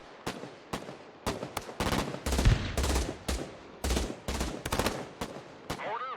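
Gunfire from infantry survivors of a destroyed vehicle in the video game Broken Arrow, loud sharp shots in irregular bursts and single cracks, some with heavy low booms, spread across the whole stretch.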